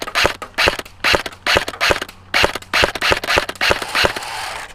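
A CYMA Sport M4 airsoft carbine with a 10-inch Keymod handguard fires in about eight sharp, rhythmic bursts of rapid clicks until the magazine runs dry, loud and close with no talking.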